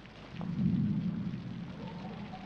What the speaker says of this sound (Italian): No, è la pioggia.